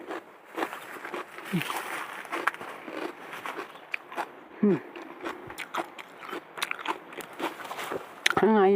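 Fresh snow peas picked from a home vegetable garden being bitten and chewed, repeated crisp crunches close to the mic with rustling and occasional voice sounds mixed in.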